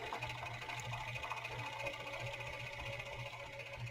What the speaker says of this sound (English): I'm going to go ahead and serge this long edge here